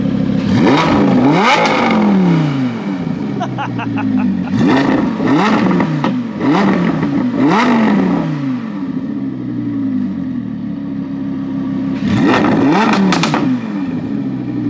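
Audi R8 supercar engine revving loudly with a freshly broken-in muffler, producing repeated exhaust pops and crackles in several bursts, close and alone with no talk.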